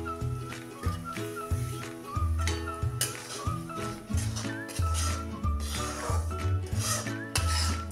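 Fine semolina (rava) being stirred and roasted in a pan on low flame with lentils, a utensil repeatedly scraping and clinking against the metal in a steady rhythm, close and fairly loud.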